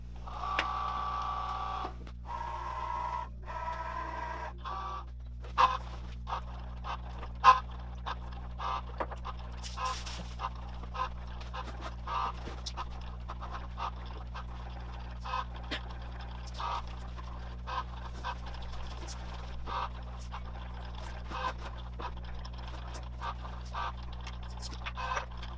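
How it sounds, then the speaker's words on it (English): A vinyl cutting machine loads a vinyl sheet, draws it in and begins cutting, giving a steady low mechanical hum with a dense run of small clicks and ticks from the carriage. No voices are heard. "Once it's sent over to my machine, all I have to do is just start to load it, and the machine's going to recognize it and pull it in."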